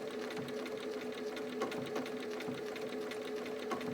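A sewing machine runs a zigzag stitch along an appliqué twig piece, giving a steady, close mechanical whir with a fast, even needle rhythm and no talking.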